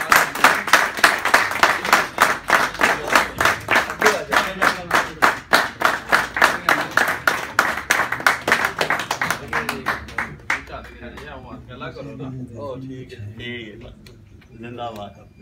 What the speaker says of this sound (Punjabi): ਇੱਕ ਵਾਰੀ ਫੇਰ ਤਾੜੀਆਂ ਹੋ ਜਾਣ